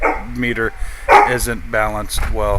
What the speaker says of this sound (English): He's barking at someone.